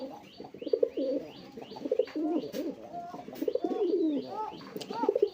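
A male domestic Bombay pigeon coos in a steady run of low, throaty calls close by, while thin higher chirps from other birds repeat in the background.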